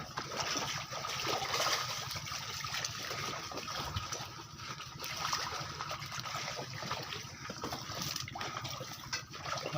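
Sea waves slosh and splash around a small fishing boat out at sea on a windy day, a steady, fairly quiet wash of moving water with irregular gushes and trickles, no voices.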